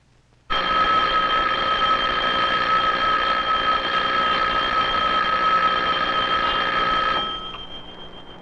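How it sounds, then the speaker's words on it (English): A loud electric bell rings continuously for several seconds with a sharp metallic buzz, then cuts off, leaving a brief fading ring. "how does the sound of the electric bell travel to our ears?"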